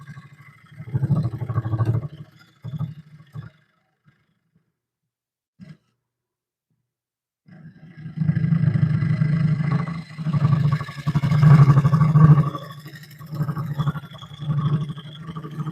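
Wood lathe spinning a wing bowl at about 800 RPM, a steady low hum and rumble with scraping as a carbide tool cuts, broken by a quiet pause before the cutting resumes louder.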